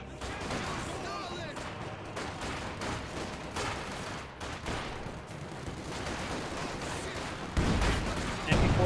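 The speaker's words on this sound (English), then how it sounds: "his squad takes a nice hit there from the Zis gun" A ZiS anti-tank gun fires on an infantry squad in a Company of Heroes 2 match, heavy shots and impacts amid continuous battle gunfire and explosions, with a louder blast near the end.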